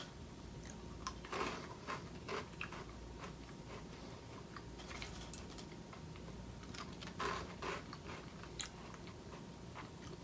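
Dry Nesquik chocolate cereal spheres being chewed close up, a steady run of soft crunching bites with a few sharper crisp snaps, heard alone with no talking.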